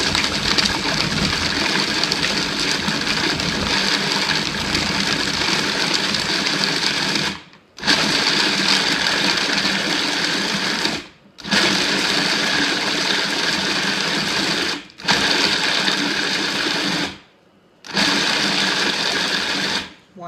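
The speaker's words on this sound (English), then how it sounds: "We're going to add those dates right in the food processor, and we're going to process this until the mixture starts to clump a little bit." Kitchen food processor blitzing dates, nuts and lime into a clumping mixture, a loud steady whirring motor running in long bursts separated by short pauses, with no talking.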